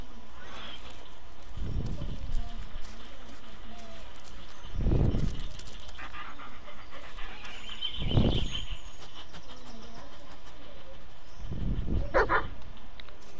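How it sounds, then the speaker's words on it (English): A dog in the woods in the Blair Witch video game barks four times in separate short bursts, spaced a few seconds apart over low ambient noise. "are you just barking at me because you want to bark at me?"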